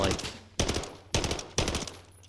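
Pistol fire in the video game Modern Warfare III, four sharp bursts of close, loud shots spaced roughly half a second apart, each ringing off briefly.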